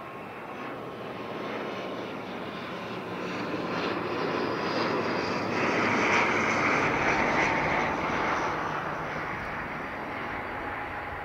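An ATR turboprop airliner coming in to land, its engine drone building gradually to a peak in the middle and easing slightly after, close and loud, with no voices.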